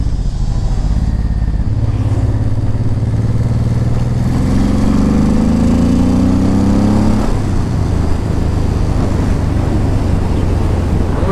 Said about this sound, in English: I'm going to show you guys how fast it accelerates